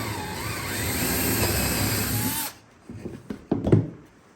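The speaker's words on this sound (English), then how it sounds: "just set it down onto a scrap piece and drill into that instead" A power drill bores into wood set over a scrap piece, a loud steady whir for a couple of seconds that cuts off abruptly, followed by a few faint clunks and handling noises.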